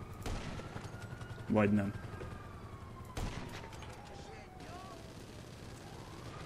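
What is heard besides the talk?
gunfire at a police helicopter in video game GTA V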